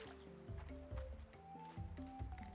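Watering crops in the farming game Roots of Pacha gives soft, quiet, squishy splashes of liquid that repeat in a loose rhythm, each a short pour followed by a drip.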